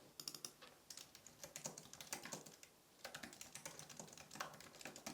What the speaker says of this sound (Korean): 타자를 치는 장면을 촬영을 해볼게요